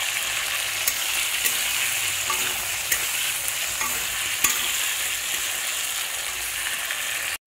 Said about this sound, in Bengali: আলু আর গাঁঠিটাকে ভালো করে ভেজে নেওয়ার পরে প্রায় ভাজা ভাজা হয়ে গেছে